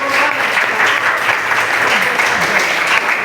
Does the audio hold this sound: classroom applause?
yes